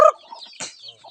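Palawan native chickens cluck in short, close bursts around a brood of chicks, a few quick calls followed by softer chirps, heard alone without talk.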